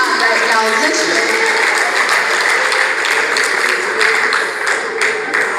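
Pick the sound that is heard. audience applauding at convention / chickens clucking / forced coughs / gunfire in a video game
audience applauding at convention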